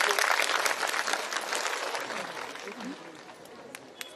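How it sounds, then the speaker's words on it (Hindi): Applause from an audience at a Hindi-language spiritual talk, a broad wash of many hands clapping that is loudest at the start and gradually thins out over several seconds. "जब मंडल जी बोला तो खूब ताली बजाइए"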